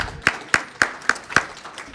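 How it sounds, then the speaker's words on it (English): Sharp, evenly spaced hand claps, about five in under two seconds, at a lecture event, fairly close and clear with no talking. "Can we have a round of applause for Henry James?"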